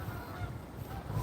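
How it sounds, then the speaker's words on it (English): Geese honking in the distance, a few faint calls over a steady background hum. "here come the Rick rolling geese again, if you can hear them"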